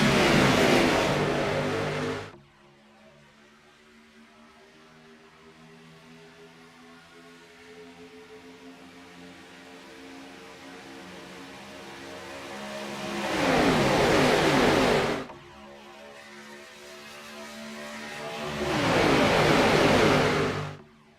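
Race cars accelerate on the track after the fifth restart of an 80-lap race, running double file. Three loud roaring passes build and fade, with a steady lower engine drone between them.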